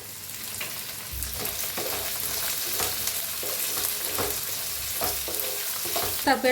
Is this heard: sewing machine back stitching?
no